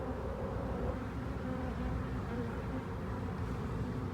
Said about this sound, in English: I've got a handful of them. Handful of bees.